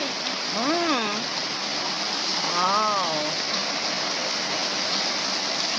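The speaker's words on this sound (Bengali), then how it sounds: "হঠাৎ বৃষ্টি নামলো, কি জোরে লাগে" Heavy rain with wind pours down in a steady, loud broadband rush that fills the whole clip, with a voice briefly sounding over it.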